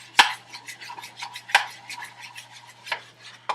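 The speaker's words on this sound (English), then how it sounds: "you want to make sure that when you stir it up, you get all the bubbles out" Thick flour and water papier-mâché paste stirred in a bowl, with close rhythmic scraping strokes and a few sharper clinks of the utensil against the bowl's side.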